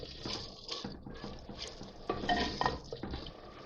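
Spoon scraping and clinking in a pan while sarson ka saag is mixed with onion, garlic, crushed red chilli and salt, with irregular close-up stirring knocks and scrapes, fairly quiet.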